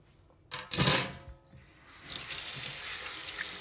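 Tap water gushes in a brief splashing burst as an item is rinsed under a faucet, then settles into a steady running stream, close and alone.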